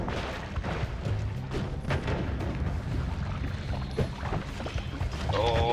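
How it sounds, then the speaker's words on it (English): Explosion in the video game Noita, a dense booming crackle of debris and fire that fills the mix continuously, with bursts of sound effects rising near the end. "An explosion."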